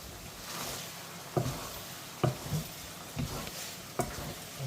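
Stirring a sauce mixture in a cooking pot, the spoon scraping and knocking against the pot in a handful of distinct clunks over a soft sizzling background; no talk.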